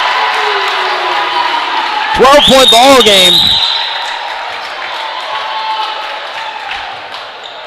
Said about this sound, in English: And the crowd erupts here on the Comet side.